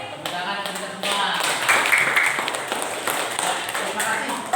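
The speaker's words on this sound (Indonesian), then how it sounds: "Tepuk tangan untuk kita semua." An audience at a school patriotic song event breaks into scattered, fairly close hand clapping, with voices chattering and calling out over the applause throughout.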